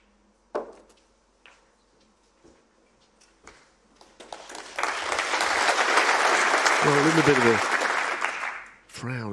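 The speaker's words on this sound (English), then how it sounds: "It got a little clap." Audience applause at a Tour Championship 2023 snooker quarter-final, rising from a few scattered claps into a sustained, steady round of clapping for several seconds before fading, with brief commentary voices at the start.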